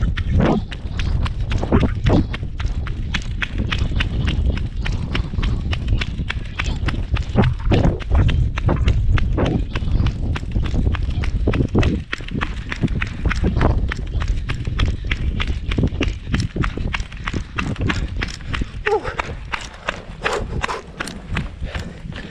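Quick, steady footsteps patter in a rapid run, soft-soled slaps close by, continuing without a break for the whole stretch.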